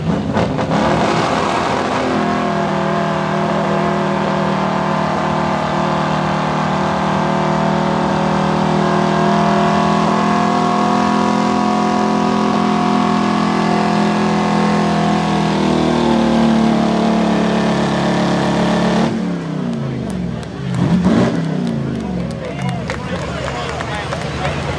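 A 1972 Chevy pulling truck running rich on the carburetor roars at full throttle down a tractor-pull track, loud and sustained for about twenty seconds before cutting off abruptly, with an announcer speaking over it.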